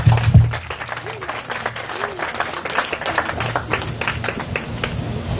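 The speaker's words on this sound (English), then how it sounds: "Let's applaud them again." A crowd at a St. Croix ancestor-honoring ceremony applauds steadily, with individual claps audible throughout and a low background hum beneath.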